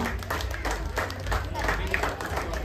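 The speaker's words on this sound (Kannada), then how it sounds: "ಎಲ್ಲರೂ ಚಪ್ಪಾಳೆ ಹಾಕಿ ಪ್ರೋತ್ಸಾಹಿಸಬೇಕಾಗಿ ವಿನಂತಿ." Audience clapping at a village prize distribution during a Krishna festival, a moderate patter of hands with crowd murmur mixed in, fairly distant and uneven.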